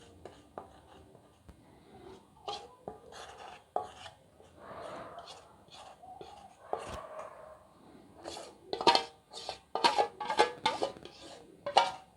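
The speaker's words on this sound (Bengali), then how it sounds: "চামচের সাহায্যে আমি চারধারে দিয়ে দেবো।" A spoon spreads chocolate cream around the sides of an Oreo biscuit cake, giving soft scraping strokes and occasional light taps and clinks against the dish, quiet and close, growing busier toward the end.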